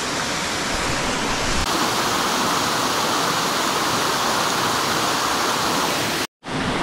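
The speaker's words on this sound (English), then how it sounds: "I was so mesmerized by this waterfall" Constant roaring rush of a waterfall in Kalagarh Tiger Reserve, Uttarakhand, dense and loud without a break, cutting off abruptly near the end.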